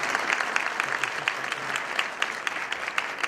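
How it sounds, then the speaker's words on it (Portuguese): Audience applause at a workplace wellbeing event, a moderate, even patter of many hands clapping heard from a distance, with no talk over it. "Uma salva de palmas."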